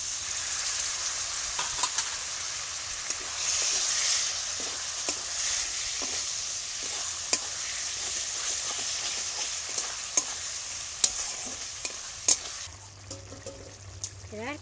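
A pan of chicken curry with yogurt is stirred over steady frying sizzle, with repeated scraping strokes of the spoon close up, and a brief low hum near the end.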